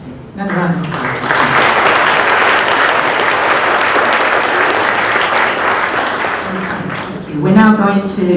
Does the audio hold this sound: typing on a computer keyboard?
no